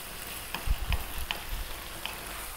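Shrimp tomato sauce and pasta heating in a pan, a gentle sizzle with soft scraping and a few thumps as the food is stirred, close and moderately quiet.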